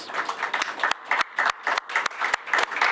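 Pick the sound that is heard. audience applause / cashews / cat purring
audience applause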